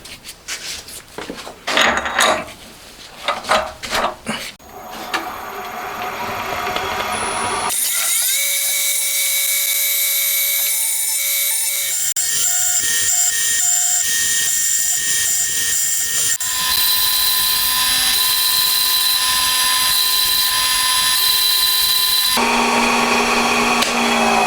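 A rotary tool grinds a metal cam-fixing part for a twin-cam 16-valve four-cylinder engine model, opening with scraping and tapping before a long, loud, sustained high-pitched whine that shifts pitch as the grinding continues.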